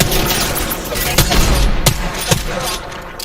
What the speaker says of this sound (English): Bomb bots are shooting at me.